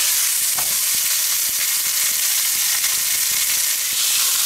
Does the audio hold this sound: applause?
no